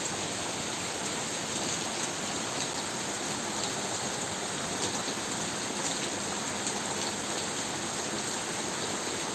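Steady hiss of rain falling continuously, even and moderately loud throughout, with no voices.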